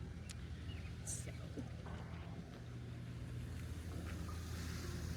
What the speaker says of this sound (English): I'm pausing because of all of the traffic and noise